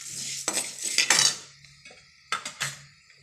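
Whole spices for bisibelebath powder are dropped into a pan over low heat, with sharp metallic clinks and rattles as they hit the metal and a spoon scrapes between short quiet gaps.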